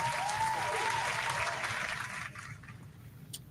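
A short round of applause, steady clapping that holds for about two seconds and then thins out and fades, with faint talk beneath.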